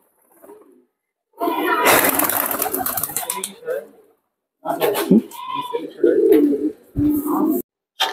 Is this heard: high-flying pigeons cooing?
yes